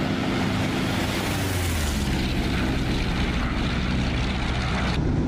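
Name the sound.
RC Fw-190 model plane flyby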